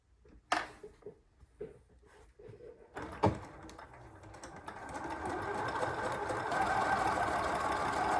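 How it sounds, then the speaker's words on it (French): A domestic sewing machine runs at full pedal speed while piecing a four-patch quilt block. A few light knocks and handling thumps come first, then the motor rises into a loud, continuous buzzing whir that builds toward the end. "Ici, ma machine est à pleine vitesse, là, je vais la baisser."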